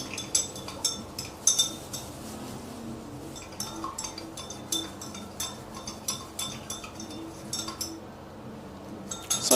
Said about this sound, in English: So give it a nice stir.